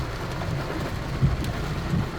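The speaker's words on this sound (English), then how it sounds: "It's raining at เนินนางพญา Viewpoint Chanthaburi. This is the side. Heavy rain." Heavy rain falls at a hillside viewpoint in Chanthaburi, Thailand, a steady broadband wash with a low rumble and a few louder gusts, continuous throughout with no voices.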